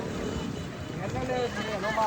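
A boat moves across open water with wind buffeting the microphone and a low engine-like rumble, while people talk over it.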